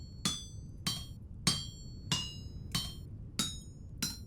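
Chiseling blocks in the survival game Vintage Story: seven sharp, ringing metallic taps, evenly spaced about every 0.6 seconds, clear and alone with no talk.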